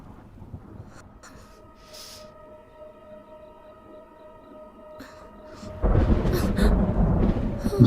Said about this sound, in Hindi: इसको शायद डर लगता है बादलों से, बिजली से गरजने की आवाज से